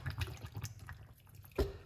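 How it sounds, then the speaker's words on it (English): A cup of water poured while making a celery, cucumber, mint and lemon juice cooler, faint splashing and trickling with a brief louder gush near the end. "Water. 1 cup of water."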